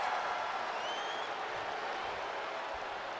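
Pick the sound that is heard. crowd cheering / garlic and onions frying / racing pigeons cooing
crowd cheering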